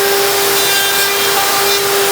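A handheld router cuts box joint fingers into the wood of a jewellery box, giving a loud, steady, high-pitched whine that holds evenly throughout without any talking.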